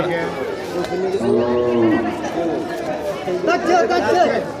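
A cow moos low and drawn-out amid loud, constant crowd chatter at the busy Betheir Ananda Bazar cattle haat during the 2025 Qurbani season, with people talking throughout.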